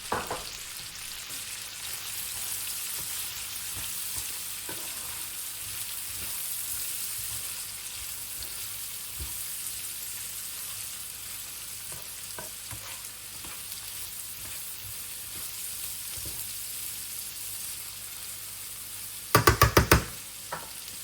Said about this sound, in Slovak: pridal som nakrájanú cibuľu, ktorú som orestoval do sklovita